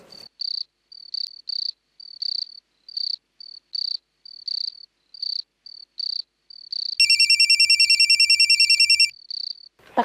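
A telephone rings during a domestic scene in a Kannada TV serial: steady rhythmic cricket chirps fill the background, then an electronic ringtone trills loudly for about two seconds before the chirping resumes.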